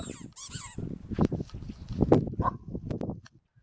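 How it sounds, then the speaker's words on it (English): A corgi's squeaky ball toy squeaks in short, sharp bursts amid rustling and movement outdoors in freezing weather, fairly faint and close. "Have you got your squeaky ball?"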